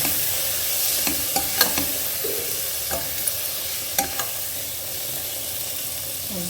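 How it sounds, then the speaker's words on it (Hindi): Finely chopped tomatoes sizzle steadily in hot oil for a Rajasthani panchmel dal tadka, with a spoon stirring and scraping the pan in scattered clinks. "हम हमारे बारीक कटे हुए टमाटर डाल देंगे और इसको अच्छे से मिक्स कर देंगे"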